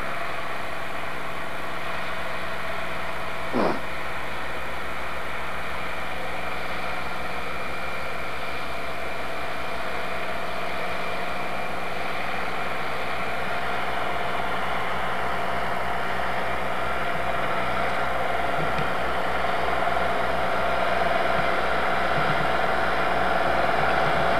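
John Deere tractor engine idling during a blizzard, a steady low rumble under constant windy hiss, unbroken for the whole stretch with no voices.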